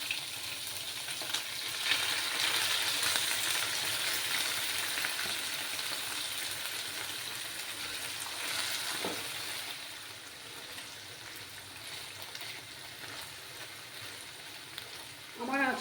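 Small fish sizzle in hot oil on lowered heat, a steady, close crackling hiss that fades slightly over time, with a brief metallic clink partway through.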